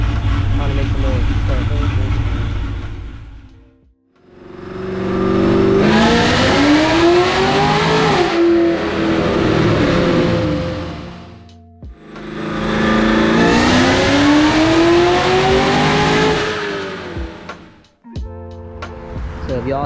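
A Cadillac CTS-V revs hard on a dyno in two long sweeps, the engine climbing in pitch to a loud roar, dropping off, then surging again, with brief quieter gaps between pulls.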